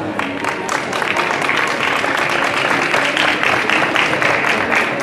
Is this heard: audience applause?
yes